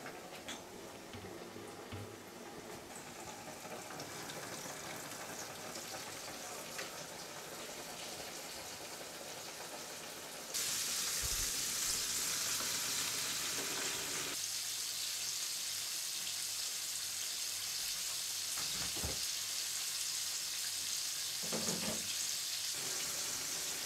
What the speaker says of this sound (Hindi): चिकन को फ्राई करने के लिए ऑयल को गर्म कर लिया है